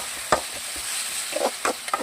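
A paste of ginger, garlic and onion fries in a pan with a steady low sizzle, broken by a few sharp scraping stirs of a spoon against the pan.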